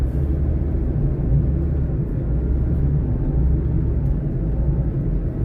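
Steady low rumble of heavy traffic on EDSA, a continuous drone of engines idling and crawling with no clear individual passes, fairly loud and unbroken with no voices.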